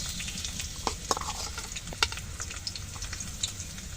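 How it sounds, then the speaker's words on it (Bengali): Chopped garlic and onion fry in a hot wok (karai), giving a steady close-up sizzle, with light scraping stirs and small crackling pops scattered throughout. "এটা আমি একটু ভেজে নেব কড়াইটি দিয়ে"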